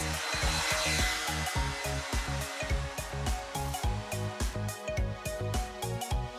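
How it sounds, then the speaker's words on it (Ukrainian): A hair dryer blows steadily at full power, its whirring hum pulsing in a fast rhythm under a bright, busy wash of sound. "Фен на повну потужність."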